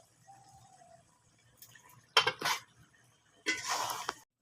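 Metal lid set down on a cooking pot of cabbage curry with soybean and chana dal, giving two close clattering knocks followed by a longer rattling scrape of metal on metal.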